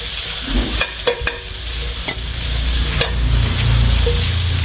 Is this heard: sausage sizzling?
yes